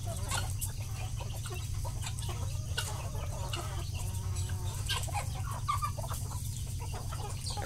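A flock of farmyard chickens clucks steadily while being fed broken corn in the morning, with overlapping close clucks and a few louder calls over a constant low hum.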